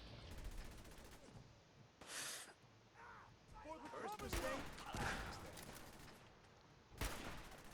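Bursts of gunfire in the video game Fallout 4, a few sharp shots and rattling volleys at varying distances, mixed with game effects and a person talking over them.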